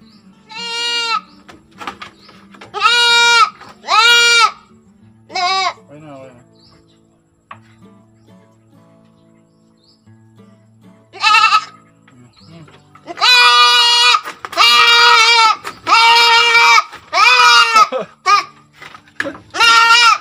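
A buckling goat bleats loudly and close by after a dose of ivermectin, giving repeated wavering cries in clusters, with stretches of quiet between them and a person speaking softly at times.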